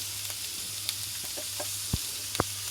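Small onions and curry leaves fry in a pan with a faint, steady sizzle and a few soft clicks over a low hum.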